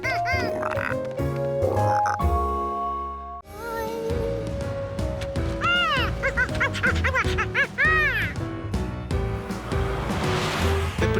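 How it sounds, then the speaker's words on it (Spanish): Cartoon frogs croak in a rapid, varied series of loud, bouncy, musical croaks during a frog race, with a playful score and splashy noise building toward the end. "¿Estás listo para las carreras de ranas?"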